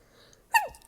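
A single abrupt sneeze from a woman close to the microphone, a quick burst with a falling, voiced tail after a near-silent moment.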